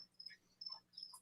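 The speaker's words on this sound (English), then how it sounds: "Are those crickets as loud as I think they are?" Crickets chirp in short high-pitched bursts heard across a reptile keeping setting, a steady repeating trill that is faint and fairly distant with no voices.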